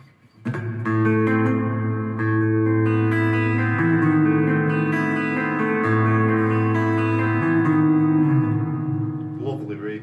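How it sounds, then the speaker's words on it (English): Sustained electric guitar chords through a Fender Champion 40 amp's reverb ring out with a lush, spacious reverb tail, played steadily and loudly for several seconds. "Lovely reverb sound that."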